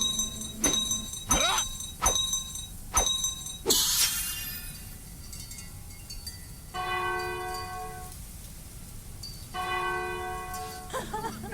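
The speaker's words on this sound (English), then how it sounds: "here comes the bell puzzle again" Bells ring out in the graveyard bell puzzle of the game Lecarde Chronicles 2, a string of sharp strikes followed by a bright crash and then two longer sustained, shimmering chimes, loud and alone.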